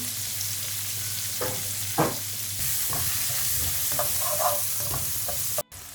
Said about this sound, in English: This is 1 chopped onion and half capsicum. Fry them together until they're light brown.